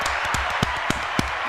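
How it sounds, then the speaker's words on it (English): An artificial applause sound effect, a steady wash of many hands clapping with a few sharper individual claps standing out, fairly loud and without talk. "I had to put artificial applause before you guys would applaud."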